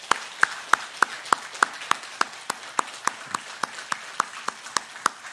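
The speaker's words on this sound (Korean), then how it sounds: "인사하실 때 박수로 격려해 주시고" A church congregation claps in slow, evenly spaced beats during a Sunday worship service, each clap sharp and distinct against a quiet room, about three per second, with no voices over it.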